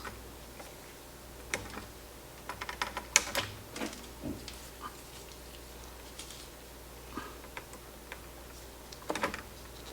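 Component leads being snipped on a Technics SU-V460 amplifier board make a quiet series of sharp, irregular clicks, some close together and others spaced apart, over a faint background hum with no talking.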